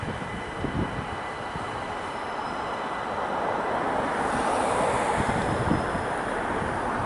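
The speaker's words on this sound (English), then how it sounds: "And a train." Train passing by at Chalkwell, a broad rushing rumble that swells and builds over several seconds, mixed with wind buffeting the microphone.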